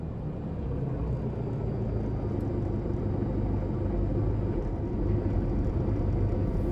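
A Guimbal Cabri helicopter engine runs up in Microsoft Flight Simulator 2020, giving a steady, close, low rumbling drone that holds evenly and swells slightly near the end, with no talking over it.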